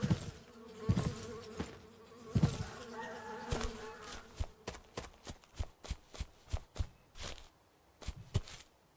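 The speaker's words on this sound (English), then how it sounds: "And they're pretty patient bees" Bees buzzing near a car under repair, a rough steady drone close by with a series of sharp knocks and taps punctuating the second half.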